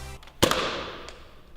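An ordinary Nerf toy blaster fires a dart at paper from about one metre away, making a single sharp, loud pop with a short fading tail in a quiet room.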